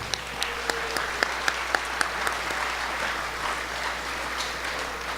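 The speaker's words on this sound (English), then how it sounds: "Can we have a round of applause for all those people?" Banquet audience at a year-end school awards event applauds for the families, a steady wash of clapping from a large room with a few louder individual claps standing out, continuing throughout without speech.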